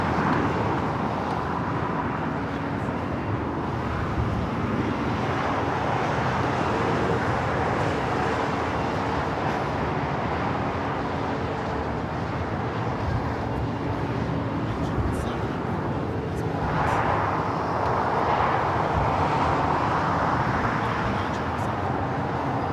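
A Boeing 747 arriving at LAX from Anchorage gives a broad, steady roar under continuous outdoor wind and background noise, swelling slightly toward the end, with voices faintly present.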